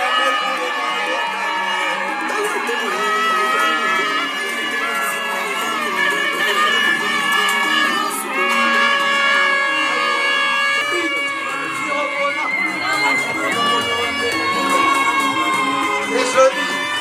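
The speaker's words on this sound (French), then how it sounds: "Est-ce qu'on peut pousser les cris de joie? Est-ce qu'on peut acclamer pour les mariés?" A crowd at a school cultural day wedding celebration cheers, ululates and shouts for the newlyweds, a dense, loud, continuous wall of joyful voices with high trilling cries throughout.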